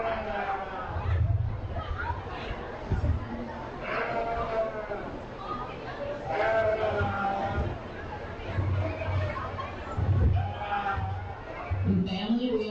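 Sheep bleating at a county fair sheep show, mixed into steady crowd chatter and announcer talk inside the show ring, with the bleats rising now and then above the hubbub.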